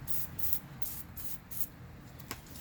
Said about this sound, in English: Give that a good healthy shot of PB. Spraying it on both sides